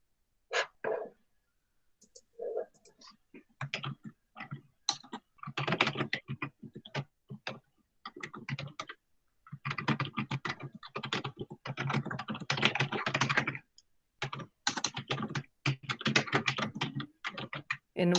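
Several people type on computer keyboards during an online group meeting, with dense clusters of rapid key clicks, close and steady, broken by short pauses over about eighteen seconds.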